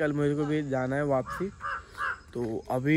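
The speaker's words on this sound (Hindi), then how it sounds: "अभी कौवा बोल रहा है" A crow caws in the morning in a village, a few faint calls in the background while someone speaks close up over them throughout.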